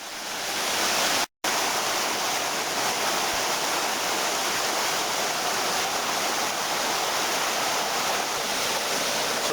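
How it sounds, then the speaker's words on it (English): Water gushes hard out of old collapsed mine tunnels near a ghost-town ore-vein site, a loud, steady roaring rush like a small waterfall, close by, briefly cut at the start, then continuous. "the water's blasting out"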